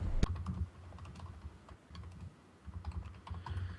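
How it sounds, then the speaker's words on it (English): Close-up typing on a computer keyboard, a steady stream of quick, uneven key clicks and taps with a few brief pauses, loud and alone with no voices. "You can hear me tip-tap typing away."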